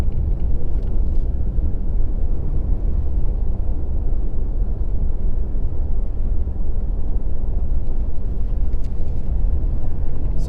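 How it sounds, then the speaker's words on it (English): A ute drives along a newly built, somewhat rough farm road, a loud continuous engine and tyre rumble with wind buffeting, steady throughout and close to the microphone, with no talking. "we'll jump in the ute and go for a drive and see how the road looks"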